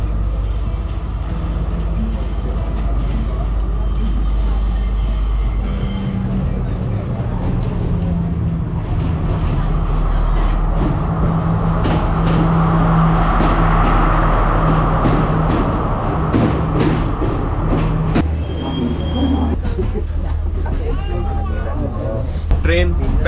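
A second-class train in Sri Lanka rolls along with a continuous low rumble and rattling wheels, while someone talks over it nearly the whole time.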